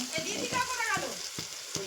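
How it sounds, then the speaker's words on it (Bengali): Close sizzling of spices frying in a pan for meat curry, with a series of regular scraping stirs, about five strokes, and faint voices in the background. "এখানে হচ্ছে মাংসের মশলাটা কষানো হচ্ছে"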